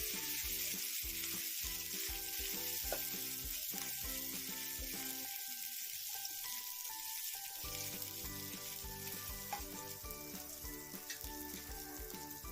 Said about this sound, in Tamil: இப்போ இந்த இஞ்சி பூண்டோட பச்சை வாடையெல்லாம் போகிற வரைக்கும் நம்ம இதில் எண்ணெயில் வதக்கிக்கலாம்.